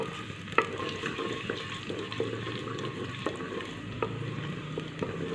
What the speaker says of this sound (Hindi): इसमें हम कटी हुई लंबाई में अदरक 1 से 2 मिनट इसे फ्राई करेंगे।